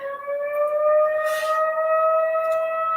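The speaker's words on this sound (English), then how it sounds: "It's so noisy here. Can you hear all the sirens?" A steady, wailing siren with several sustained tones holds continuously over the whole stretch, loud and unbroken, with a brief hiss of noise midway.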